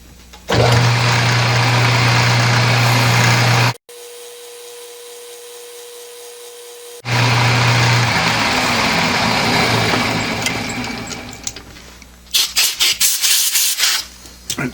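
A metal lathe takes a taper cut, a loud sustained grinding whir with a low hum that cuts off, returns after a pause, fades and then gives way to scraping clatter.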